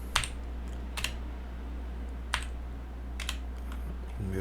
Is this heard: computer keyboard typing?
yes